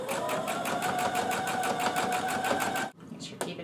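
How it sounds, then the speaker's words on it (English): A sewing machine topstitches chiffon fabric onto a stretch t-shirt, running in a steady, rhythmic close-up whir for about three seconds before stopping, followed by a couple of small clicks. "Just doing a top stitch."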